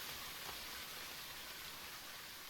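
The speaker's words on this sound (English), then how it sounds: "I can hear the sound of rain." Rain in the video game Ame no Marginal, a soft, steady hiss of rainfall that holds evenly throughout with no other sounds.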